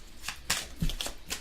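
Tarot cards are drawn from a deck in a close, crisp series of papery slides and flicks, several quick rustling strokes with no voices.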